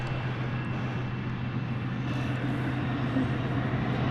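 An Airbus A300 airliner passes at an airport at night, its engines producing a steady, broad roar with a low droning hum that stays constant in level throughout.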